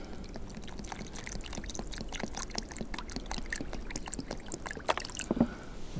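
Water pours steadily into a container with a gurgling, splashing flow, close by and uninterrupted, with no talking.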